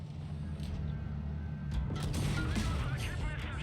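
Rapid bursts of tank cannon fire in World of Tanks Blitz, sharp booms over a constant low mechanical rumble, with a voice talking over them.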